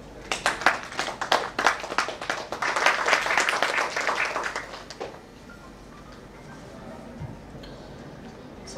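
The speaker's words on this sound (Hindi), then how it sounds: "तालियां।" Audience applause at a formal stage program: rhythmic close clapping that swells into dense applause for about five seconds, then fades into room noise.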